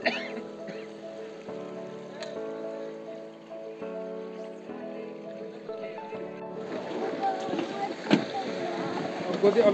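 A boat ride pulls in to a river ghat, with a steady engine drone and water wash underneath, growing louder toward the end, with a few sharp knocks and faint voices.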